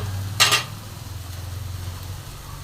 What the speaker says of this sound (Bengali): এবার আমি সামান্য একটু জল দিয়ে দিচ্ছি।